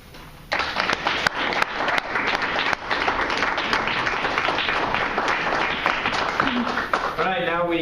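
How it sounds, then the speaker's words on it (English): Loud, sustained applause from an audience at a live Mormon poetry slam, dense clapping that starts abruptly and carries on steadily, with a voice speaking briefly near the end. "Let's give another round of applause"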